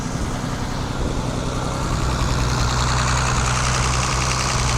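A Mercedes C107 280 CSL engine idles after a fuel distributor repair, with the air conditioning switched off: a steady, even mechanical rumble with a faint knocking texture, close and unbroken throughout.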